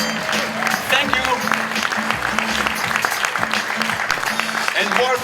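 A large audience at the AWE USA 2024 XR conference wrap-up and awards session claps in sustained, loud applause that fills the hall, with a voice speaking over it.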